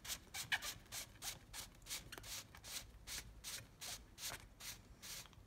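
A billiard cue tip is sanded by hand with 400 grit sandpaper. Quick, soft rubbing strokes repeat in a steady back-and-forth rhythm, close and quiet, with no speech.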